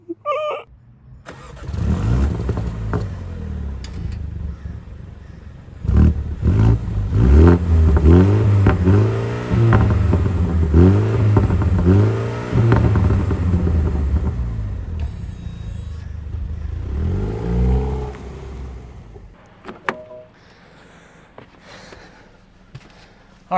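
A MINI Clubman JCW Untold Edition with a manual gearbox revs and pulls away, its engine note climbing and dropping through repeated surges over several seconds before settling back to a quieter idle, heard close from inside the car.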